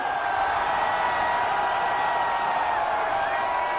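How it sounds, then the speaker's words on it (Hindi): Large crowd at an airport inauguration ceremony applauds and cheers in a continuous roar, loud and sustained, with voices mixed through the noise. "तालियों की गड़गड़ाहट पूरे देश तक जानी चाहिए।"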